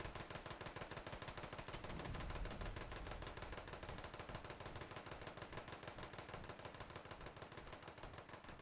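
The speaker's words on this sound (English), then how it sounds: "There's a lot of assault rifle glitching." Rapid assault rifle fire in the Fallout 76 game, a dense continuous stream of automatic shots with no break, steady and loud, no voices.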